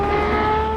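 An Aston Martin race car's engine howls at high revs, a loud sustained tonal wail with strong steady harmonics, close and alone for under a second.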